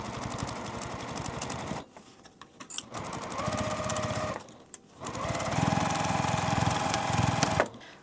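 A sewing machine stitches through thick layered fabric of a multi-zipper pouch in loud, fast close-up runs, stopping briefly twice before starting up again.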